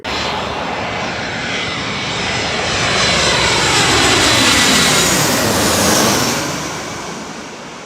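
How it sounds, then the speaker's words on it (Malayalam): A loud jet airplane taking off from Cochin International Airport roars steadily, swelling in the middle as it climbs and passes, then easing slightly toward the end, with no voices. "പ്ലെയിൻ പൊങ്ങുന്നതും താഴ്ന്നൊക്കെ"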